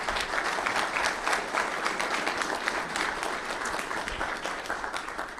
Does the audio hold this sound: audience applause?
yes